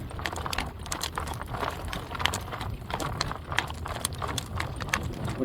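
A ridden horse's hooves clip-clop in a steady, even rhythm on open ground, close and distinct, with faint jingling of tack between the steps.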